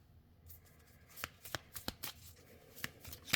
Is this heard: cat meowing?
no